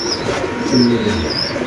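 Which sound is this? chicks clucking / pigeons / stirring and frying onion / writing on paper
pigeons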